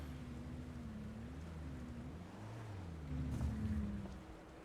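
A small boat in Farming Simulator 25 in a highlands setting motors across the water, a low steady engine hum with shifting pitch and a soft wash of water, swelling briefly louder near the end.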